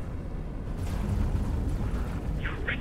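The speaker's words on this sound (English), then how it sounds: "Explosion imminent." A space station explodes in the space game X4 Foundations, heard as a deep, sustained rumbling roar that swells after a short quiet start and keeps booming, with a faint higher crackle near the end.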